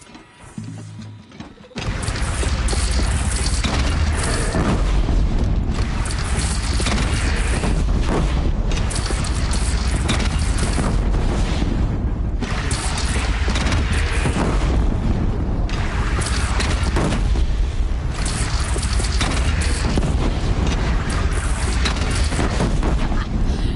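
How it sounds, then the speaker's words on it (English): Cannon fire and explosions during a battle in the video game Horizon Zero Dawn make a continuous, loud, dense roar of booms and blasts after a brief quieter opening. "They only have one cannon!"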